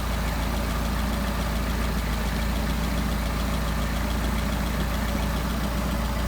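An engine with a Solex carburetor idles steadily at around 700 RPM, a close, even low rumble with a fine rhythmic pulse that holds unchanged for several seconds, with no voices.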